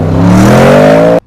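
Twin turbo V8 Audi S8 with 563 horsepower accelerating hard, a loud, close engine roar with rising pitch that climbs steadily for about a second before cutting off abruptly.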